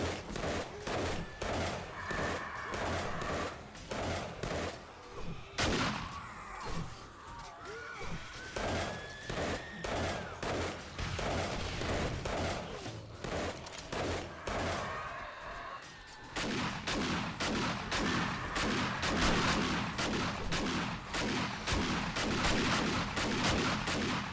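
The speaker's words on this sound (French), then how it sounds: "c'est bien le fusil à pompe à bout portant" A pump shotgun fired at close range in the 7 Days to Die video game, with loud booming shots repeated rapidly in a dense, relentless barrage amid heavy game din.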